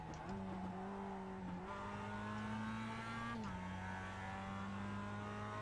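Mazda Cup race car engine in the iRacing simulator at Mid-Ohio, a loud steady drone whose pitch shifts abruptly through gear changes, with tire noise underneath.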